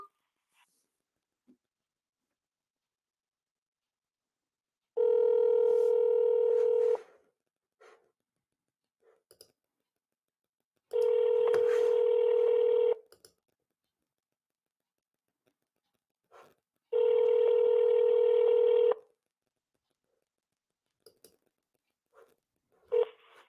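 Three long telephone keypad tones sound in sequence over a phone line on a senator's office automated menu, each steady beep lasting about two seconds with short gaps between, and faint clicks in the quiet stretches.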